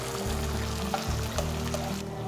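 Garlic, curry leaves and small shallots sizzle in hot oil, a steady crackling hiss with a few sharper pops as ingredients drop into the pan.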